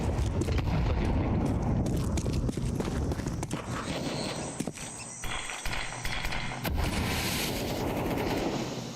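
Gunfire in the video game Counter-Strike 2, dense rapid shots and bursts that continue for several seconds, loud and close, mixed with other in-game noises.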